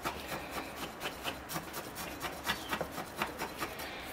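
Soft rubbing and scraping as a smooth stainless steel chopstick works through native maple bonsai roots in a greenhouse, steady repeated strokes, close and quiet.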